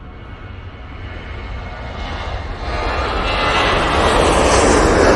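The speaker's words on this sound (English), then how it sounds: "We've got a 737-800 to Alicante. He's going to come into the shot any second now." Engines of a Boeing 737-800 airliner bound for Alicante at Manchester Airport build into a rising roar, growing steadily louder and closer with broadband jet noise and no talking.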